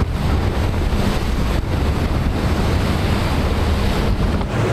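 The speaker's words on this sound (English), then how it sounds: "the ice is getting cut by the front of the ship," Steel bow of an icebreaker ship cutting through ice at Neah Bay, a loud continuous grinding roar with broadband rumble and wind-like rush, steady throughout without speech.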